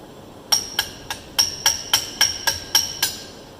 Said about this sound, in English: Get a hammer, tap that a little bit.